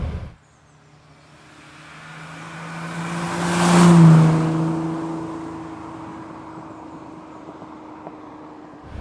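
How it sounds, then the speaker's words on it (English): A 1965 Ferrari 330 GT 2+2 V12 is heard from inside the car as the engine swells smoothly to a rising rev and then eases back, a continuous tonal drone that peaks midway and fades off. "Give the throttle even the tiniest of blips and that V12 responds beautifully."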